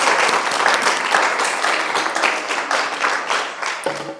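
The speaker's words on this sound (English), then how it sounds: "One more round of applause for Gina" A live audience at a confidence-themed speaking event gives a speaker a steady round of applause, full and close throughout, with a brief voice entering at the very end.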